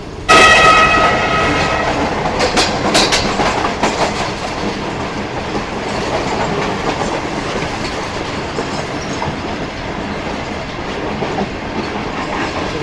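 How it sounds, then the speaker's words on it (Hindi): A passenger train rolling into Hyderabad, Pakistan, on the Karachi–Thar Desert line, heard from on board with a horn blast near the start followed by continuous loud rumble and wheel clatter. "फाइनली ट्रेन हमारी हैदराबाद शहर में एंटर हो चुकी है"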